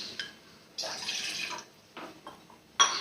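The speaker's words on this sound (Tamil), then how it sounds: "அதுக்கு ஈக்குவலாக தண்ணி ஊற்றிக்கணும்." Water trickles and splashes in short bursts as it is poured into milk in a pan on the stove, with brief pauses and a sharp clink near the end.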